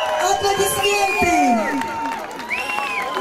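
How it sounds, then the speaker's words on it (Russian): A concert audience cheers and shouts for a singer arriving on stage, with loud crowd whoops and whistles in a dense, continuous roar and some clapping underneath. "Аплодисменты!"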